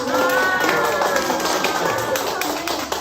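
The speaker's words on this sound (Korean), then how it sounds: "축하하는 박수 한번" An audience at a children's song event in Korea claps in congratulation, a loud, dense patter of many hands that holds steady the whole time and fades slightly at the end.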